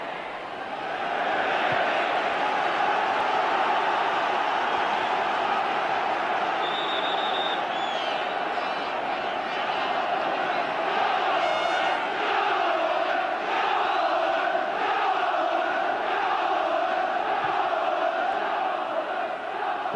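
A large football stadium crowd at an FA Cup semifinal between Manchester United and Oldham Athletic roars and chants steadily, with rising cries and cheers swelling throughout, a dense, continuous wall of voices with occasional whistles.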